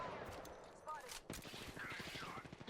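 Rapid gunfire from shooting an enemy in the Apex Legends video game, a close burst of quick repeated shots mixed with game effects, with voices talking over it.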